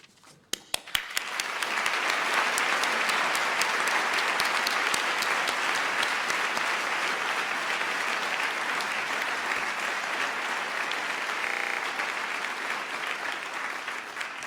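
At a university PhD graduation ceremony, a few scattered claps quickly swell into sustained, loud applause from a large audience that holds steady for over ten seconds.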